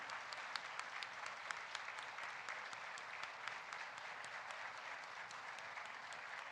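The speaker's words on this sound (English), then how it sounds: "give a big round of applause to all your parents, friends, whoever is there" Graduates at an annual convocation applaud their parents and friends, a quiet, distant, continuous patter of many hands with a few sharper individual claps standing out, sustained evenly throughout.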